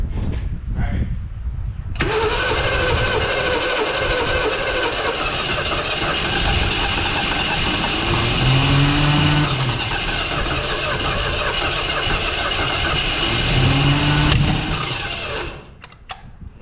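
A 1970 Mustang Mach 1 engine, started for the first time in decades during restoration, cranks briefly then catches and runs with a loud, rough, rising roar that holds steady before cutting off near the end; voices are heard faintly at the start.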